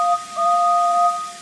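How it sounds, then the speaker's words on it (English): A steam engine's whistle sounds a steady two-tone note, bright and clear, lasting just over a second with no other noise. "Suddenly, a cheerful whistle echoed from behind."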